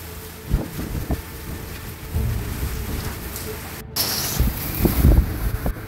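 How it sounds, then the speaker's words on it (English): Strong Hurricane Milton eyewall wind roars and gusts around a wall, with heavy rain and debris thumps rising and falling in loud irregular bursts over several seconds. "Dang, that is crazy strong wind right there."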